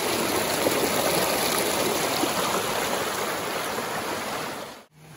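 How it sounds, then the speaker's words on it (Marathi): A waterfall and stream in the Andharban forest during a monsoon trek in heavy rain give a loud, steady, close rushing roar of water that continues without a break and cuts off abruptly at the end. "मित्रांनो, इथं जागोजागी वॉटरफॉल आहे."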